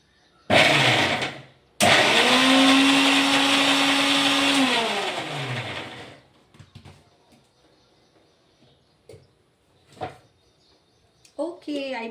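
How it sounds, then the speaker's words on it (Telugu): A kitchen mixer grinder grinding gongura chutney whirs loudly in two bursts, a brief one and then a longer run that winds down, followed by quiet kitchen clatter. "మిక్సీ తీసుకొస్తాను అప్పుడు మనం మంచిగా గోంగూరతో తాలింపు పెట్టుకోవచ్చు"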